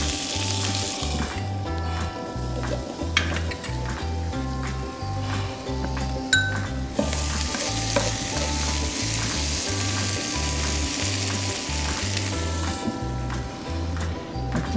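Tomatoes sizzle steadily in a frying pan alongside palamito fish rolls with capers, with occasional stirring scrapes over a continuous close frying hiss and no talking.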